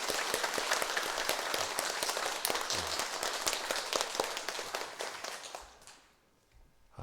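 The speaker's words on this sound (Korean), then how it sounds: "다시 한번 뜨겁게 박수를 하겠습니다" A church congregation claps during a Sunday worship service, a dense, roomful patter of hands that holds steady and then fades out near the end, leaving brief quiet.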